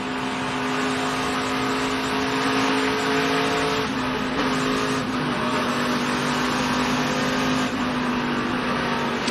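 Onboard the number 16 NASCAR truck of Austin Hill racing at Texas, a loud, steady engine roar with a constant high drone and brief dips as gears shift, no voices.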